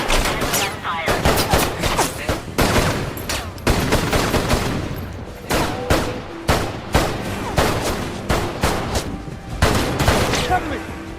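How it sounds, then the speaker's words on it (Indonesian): Rapid gunfire in a police shootout scene from a bank robbery film, repeated sharp bursts and volleys of shots filling the scene at close range. "Tak berselang lama pihak kepolisian berdatangan dan terjadi adu tembak dengan Gabriel."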